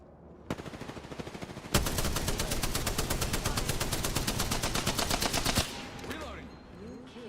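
Rapid automatic gunfire in Apex Legends, a fast even stream of shots after a few scattered opening rounds, loud and close, then stopping abruptly near the end.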